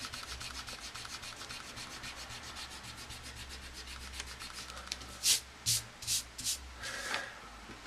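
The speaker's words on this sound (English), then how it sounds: "everything to the right of that line I'm now actually going to rub out" An eraser rubs out pencil lines on a strip foundation construction drawing, first in a run of fast, light strokes, then in a few slower, louder scrubs near the end.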